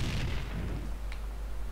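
Heavy gunfire and explosions from the video game Max Payne 2 fill the moment with a dense, loud, continuous roar, a booming blast at the start and a sharper crack near the end.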